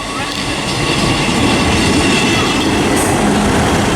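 A Class 158 diesel train rumbles and clatters close by as it pulls into Chesterfield station, a steady broadband roar of engine and wheels on track.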